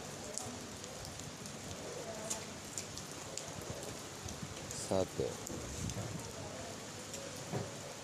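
Heavy rain pours down outdoors in a steady, dense hiss that runs throughout, with someone talking over it.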